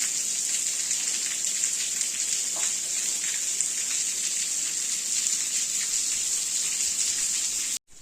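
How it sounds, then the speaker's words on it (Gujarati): Heavy pre-monsoon rain pours down on a farm, a steady dense hiss of drops on surfaces continuing evenly throughout before cutting off abruptly at the end. "તો આપણે જોરદાર વરસાદ આવી ગયો ને ત્યારે જો બધું પલાળી દીધું"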